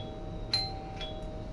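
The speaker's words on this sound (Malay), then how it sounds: "Dengar tu, loceng dah berfungsi." A household doorbell chimes during a wiring test, giving a brief ding with a sustained ringing tone and a softer second strike, alone against low background hum.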